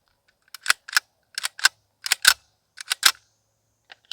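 Metallic clacks and snaps of an AR-15 with a CMMG caliber-swap setup as the bolt is worked and slingshotted forward to chamber a round; a string of sharp, close mechanical clicks in quick clusters, alone with no talk.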